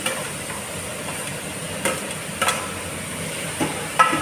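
Tomato and eggplant fry in a pan with a steady sizzle and hiss, broken by a few short stirring scrapes and clatters near the end, with no talking.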